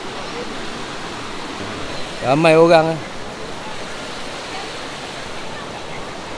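Steady broadband rush of a waterfall at the Sungai Chiling fish sanctuary fills the scene continuously, while a person speaks briefly partway through.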